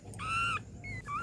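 Newborn puppies from a first litter whimper in two high, thin, wavering cries, close and fairly soft, with a short pause between them over a low background hum.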